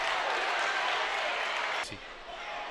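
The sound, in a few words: crowd cheering at a basketball game after a block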